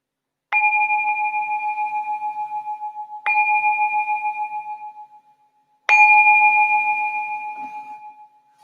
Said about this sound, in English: I'm just going to ring this bell to signal the start of our meditation.